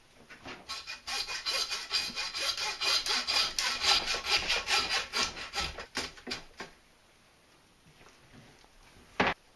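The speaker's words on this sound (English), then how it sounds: "I'm going to go ahead and cut that ball right off with my handsaw" A handsaw works through a deer leg bone at the ball joint in quick, rhythmic back-and-forth rasping strokes for about six seconds, then stops. Near quiet follows, broken by one sharp knock at the end.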